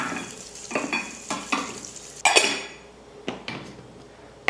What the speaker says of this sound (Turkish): Pilav tenceremin kapağını da yıkayayım.